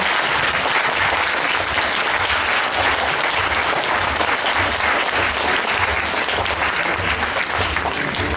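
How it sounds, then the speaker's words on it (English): A large audience at an evening fireside chat event gives a sustained round of applause, dense steady clapping that continues loudly throughout without pause. "Can we first give a big round of applause?"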